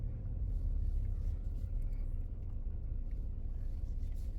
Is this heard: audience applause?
no